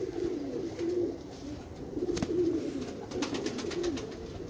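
Pigeon giving repeated low coos in a regular rhythm, moderately close against a noisy background, with a brief sharp click midway.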